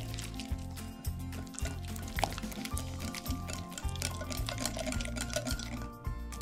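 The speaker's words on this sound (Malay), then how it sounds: "Kacau pekat-pekat macam ni, kacau sampai halus" Thick takoyaki batter is stirred steadily in a bowl until smooth, giving soft wet churning sounds, close by, over a background of steady music.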